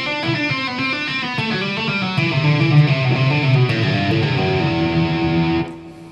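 Solo electric guitar playing legato octave shapes in a masterclass demonstration, a continuous sustained phrase with lightly distorted tone that rings steadily before stopping abruptly near the end.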